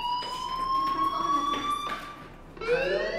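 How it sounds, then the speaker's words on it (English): A fire alarm rings in the Life is Strange video game, a loud, steady electronic tone that holds and slowly rises. It cuts out briefly near the end, then starts again with a brighter rising sweep. "Hey, do you hear that fire alarm?"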